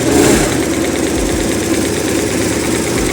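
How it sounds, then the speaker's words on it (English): A BMW R1150RT motorcycle engine runs at a loud, steady idle close by, a continuous throbbing rumble with a faint low pulse and no other sounds. "I'm just going to start the bike."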